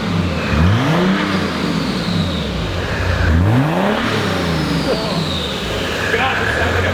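A turbodiesel Mercedes OM606 straight-six fitted in a Datsun 240Z revs up and down in loud, close swells with a steady droning idle between, turbo whistle rising above, and a voice talking over it.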